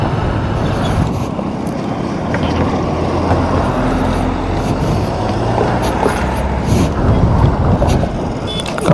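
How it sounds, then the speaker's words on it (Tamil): Strong wind buffets the microphone while riding a motorbike along a road near Anbil, a steady, loud low roar with gusting rumble throughout and engine noise underneath. "காற்று அடிக்குது, கீழே விழுந்துருவோம் இருக்கு இந்த காற்றுல"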